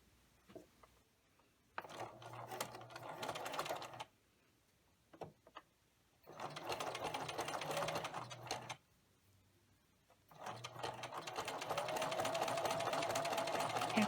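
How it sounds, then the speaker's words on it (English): A sewing machine runs in three bursts, stitching a fleece strip through three layers, each a steady whirring rattle of a few seconds separated by quiet pauses, close and clear. "we're going to stitch through all 3 layers"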